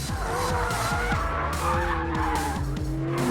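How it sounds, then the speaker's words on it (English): A McLaren 720S in drift mode slides with loud, sustained tire squeal and skidding over a revving engine, close and continuous with no talking. "I know my setting on a McLaren's variable drift control."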